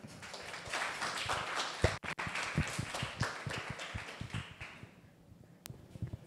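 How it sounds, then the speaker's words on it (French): Audience applause for two presenters at a Le Wagon coding bootcamp demo day in Nice, a faint, scattered clapping from a small room crowd that thins out toward the end, with a few close claps. "Donc on peut les applaudir très fort au micro, Jacques et Solène."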